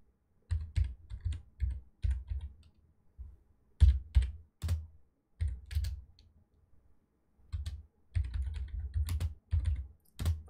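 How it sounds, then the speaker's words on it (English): Computer keyboard typing while coding in Visual Studio 2022, with bursts of quick, close clicking keystrokes separated by short pauses, loud and alone with no talking. "I'm just going to type"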